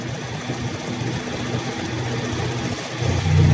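A Toyota Revo diesel engine idles steadily with a low, even rumble that swells slightly louder near the end; no talking is heard.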